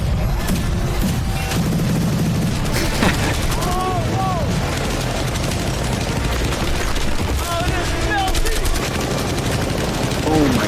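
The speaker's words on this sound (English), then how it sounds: "They just brought out the LMG." An LMG machine gun fires long bursts at a Lamborghini shielded by cinder blocks, dense rapid gunfire continuing loud throughout, with booms and clatter mixed in.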